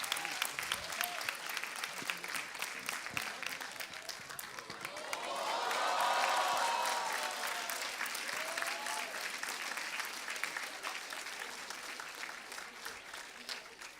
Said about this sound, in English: So can we all give a round of applause for Auchitya?